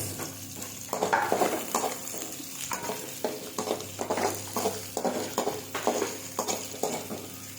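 Onions sauté in a pan over a low flame for idli upma, with a soft continuous sizzle under repeated rhythmic scraping strokes of stirring, close and fairly loud.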